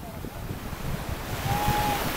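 Sea waves at Tuxpan beach in Veracruz, a continuous surf wash mixed with wind buffeting the microphone, with a faint voice briefly in the background.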